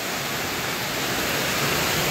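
Heavy rain pours down during a Signal No. 1 storm in Luzon, a dense, steady hiss of falling water with no break, fairly close and even throughout.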